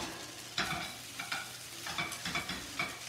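An udon noodle cake frying in sesame oil in a pan, a quiet steady sizzle broken by several soft scraping stirs as the noodles are pressed and moved.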